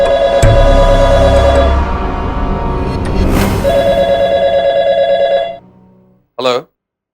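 A telephone bell rings loudly and continuously in an indoor drama scene, a bright sustained trill under scattered voices and room noise, then it stops and a short burst of speech follows.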